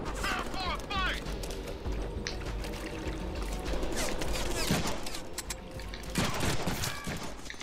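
Rapid gunfire in the Deadpool video game, continuous dense shooting mixed with game effects, with a voice talking over it.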